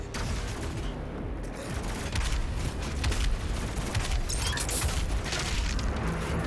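DOOM Eternal combat roars on as a dense, loud barrage of booming blasts and mechanical clatter fills the scene, consistent with repeated shotgun fire amid sustained game noise.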